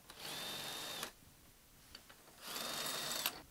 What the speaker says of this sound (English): I'll use my little cordless Ryobi to adjust that